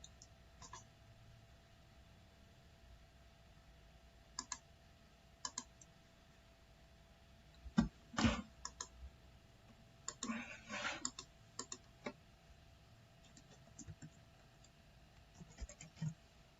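Sparse, sharp clicks of a computer mouse scattered across a quiet room, with a brief scratchy burst in the middle, recorded while creating a new database in phpMyAdmin.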